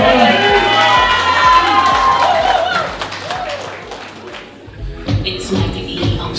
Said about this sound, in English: Round of applause for Solwana.